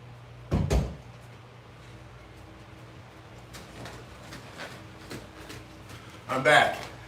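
A back door thumps open or shut twice, once near the start and again near the end, each a short loud knock standing out against quiet room tone with small scattered noises between.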